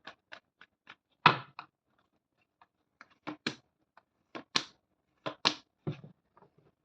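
Tarot cards being shuffled by hand, a series of short crisp snaps and riffles in irregular bursts, close and fairly quiet with pauses in between.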